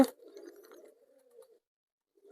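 A pet pigeon gives a single soft, low coo from nearby, lasting about a second and a half before quiet returns.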